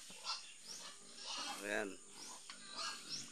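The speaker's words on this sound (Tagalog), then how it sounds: "Sisilipin natin guys yung kanyang alagang baboy" Three-month-old pigs grunt and snort in a small backyard pig pen in a village. The grunts come in several irregular bursts, close and moderately loud, while a person speaks briefly.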